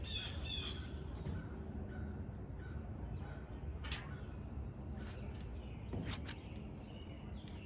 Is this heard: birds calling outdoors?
yes